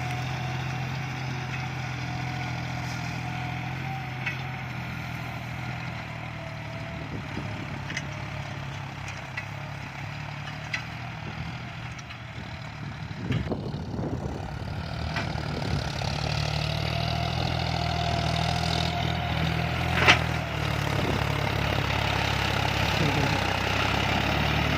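A John Deere tractor, a 5055E or 5045D, works in 4th gear in a field, its engine a steady, continuous low drone with a brief rise midway, no talk over it.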